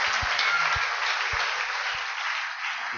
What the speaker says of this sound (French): Applaudissons fort.